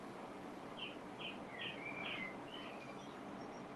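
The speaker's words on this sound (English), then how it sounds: "I hear some birds chirping back there." A few short bird chirps sound in a quick series over a steady background hiss, moderately faint and somewhat distant.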